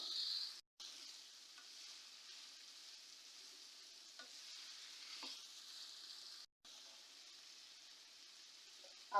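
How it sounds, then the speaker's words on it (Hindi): Samosa filling ingredients for a chicken samosa fry in a pan with a soft, steady sizzle, quiet and continuous, broken by two brief dropouts. "तो थोड़ी देर में दोनों चीज़ों को फ्राई कर लेती हूँ।"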